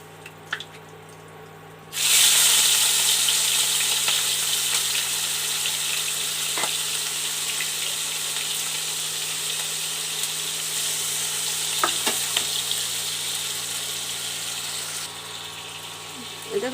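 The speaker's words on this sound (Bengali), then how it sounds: "দেখো বন্ধুরা, আমার চিংড়ি মাছ ভাজা হয়ে গেছে," Prawns coated in turmeric powder and salt fry in hot oil, a loud continuous sizzle that starts abruptly and holds steady for a long stretch, with a few faint clinks and no talk over it.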